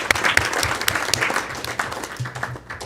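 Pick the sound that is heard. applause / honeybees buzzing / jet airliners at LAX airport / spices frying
applause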